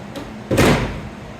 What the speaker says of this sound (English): Make sure you close the door